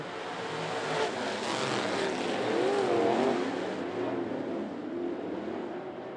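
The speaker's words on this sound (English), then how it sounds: "Several cars getting air coming out turn number two." Race cars roar at the green flag start of a Sweetheart 52 race at 411 Motor Speedway, a dense, sustained engine drone from a pack of cars that swells and holds steady, heard at some distance.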